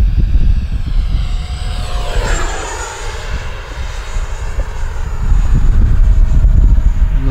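An FMS Futura 64 RC jet flies past at full speed into the wind, a loud whooshing ducted-fan roar that swells, dips slightly mid-pass and surges again, with gusty wind buffeting the microphone.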